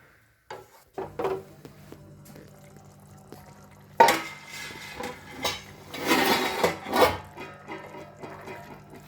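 Paneer goes into a pan of sweetcorn and capsicum curry with stirring and scraping, bursts of sizzle and pot clatter that swell louder near the end, no talking.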